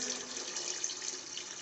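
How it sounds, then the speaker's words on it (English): Borewell water pours into a sump tank with a faint, continuous rushing hiss and no voices. "once the borewell water is filling the sump tank"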